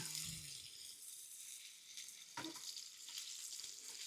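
Food sizzling in oil in a pan at a camping site, a continuous bright crackling hiss with a few sharper pops and a short clatter partway through.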